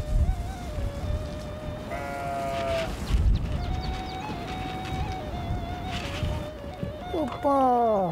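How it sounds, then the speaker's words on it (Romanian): Sheep bleat at a mountain sheepfold in Sebiş, Bistriţa, their wavering calls rising in a few bursts over steady outdoor background noise, sounding moderately distant. "Din depărtare se auzea behăitul oilor."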